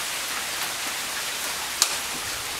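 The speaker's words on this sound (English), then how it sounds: "Rainy day" Steady rain falls all around in Lansdowne, Pennsylvania, a dense even hiss of drops with one brief sharper tap near the end.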